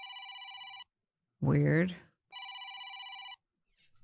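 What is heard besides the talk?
phone ringing in the video game Decadence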